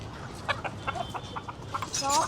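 Released chickens cluck and call in short bursts, close by, with some rising squawks toward the end over a quiet outdoor background.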